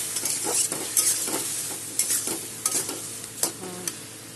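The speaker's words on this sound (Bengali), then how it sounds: "আমি এখন মিষ্টি কুমড়োর ডাঁটাগুলো ধুয়ে কেটে ধুয়ে রেখেছি, ওগুলো একটু দিয়ে দেবো" Pumpkin stems stirred and frying with mustard seeds in a pan, giving a close, steady sizzle with scraping stir strokes every half second or so and no talk.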